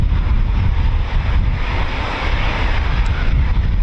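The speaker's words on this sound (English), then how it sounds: "we've got our first taxi in Typhoon" A Eurofighter Typhoon FGR4 jet taxiing at RAF Coningsby gives off a loud, broad roar with deep rumble, heavy wind buffeting on the microphone, steady throughout.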